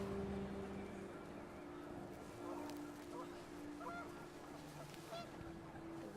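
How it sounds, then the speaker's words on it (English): Panicked geese honking in What Remains of Edith Finch, a cluster of harsh calls rising over gusting wind and low rumbling ambience, moderately loud and brief. "The wind picked up and panicked geese appeared and quickly went."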